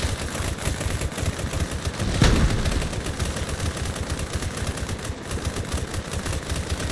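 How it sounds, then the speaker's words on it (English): Continuous video-game gunfire fills the scene, a dense rapid rattle of automatic weapons firing blindly into smoke, with one louder burst standing out partway through; steady and close throughout, no talking. "And now this asshole is just blindly firing into the smoke, getting no kills."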